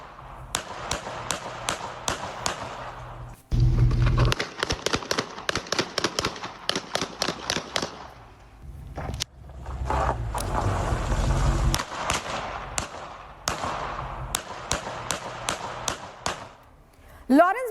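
Rapid bursts of sharp gunshots crackle in irregular volleys during a gang attack in Canada, some clustered and some spaced apart, loud and echoing over a low rumble.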